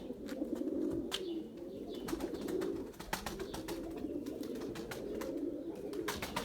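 Pigeons feeding on the ground, with steady low cooing throughout and scattered pecks and wing flutters, heard close with no talk.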